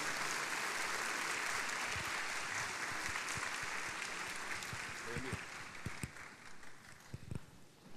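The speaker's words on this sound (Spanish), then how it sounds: "Un aplauso, creo, para el pastor" Audience applause welcoming a pastor at a church conference gathering in Lince, a dense, steady clapping crowd filling the room and tapering off toward the end, with a voice speaking over it.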